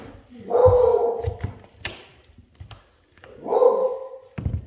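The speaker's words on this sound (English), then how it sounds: "the dog will bark at you." A dog gives two drawn-out barks a few seconds apart, close and fairly loud, with some small knocks and shuffling in between, during bedroom carpet tear-out and vinyl laminate flooring work.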